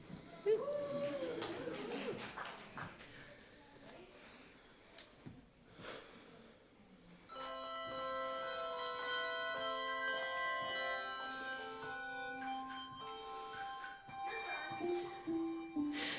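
A handbell choir at a church Sunday service rings out sustained, overlapping bell tones for a song, following a stretch of talking and rustling, the ringing chords clear and moderately loud in the room.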